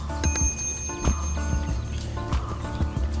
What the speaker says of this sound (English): Always important to keep ringing the bell.